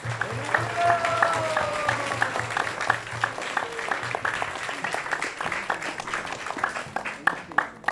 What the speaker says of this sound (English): let's give us or yourself a big round of applause for all of you